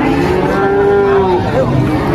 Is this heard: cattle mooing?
yes